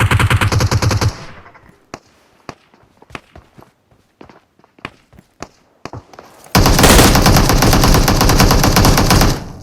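PUBG Mobile gunfire: a loud, close burst of rapid automatic fire opens, then scattered single shots and footsteps follow before another long, dense automatic barrage dominates to the end.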